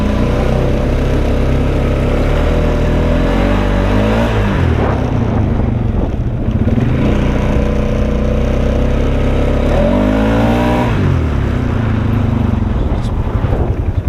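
Polaris Sportsman 570 EPI ATV fitted with a clutch kit, engine droning loudly and revving up in rising sweeps a few times, close with wind noise, a voice talking over it.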